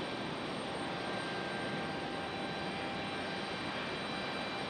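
Delta airliner jet engine at Raleigh Durham airport, a steady broad roar with a faint high whine, constant and unchanging, heard from a distance with no talk.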